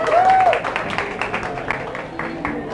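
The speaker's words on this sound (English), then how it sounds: "let's give a round of applause for Patricia Estevez" A crowd claps in applause for a guest speaker at a theology talk in Washington Heights, a dense, steady patter of hands with some voices mixed in throughout.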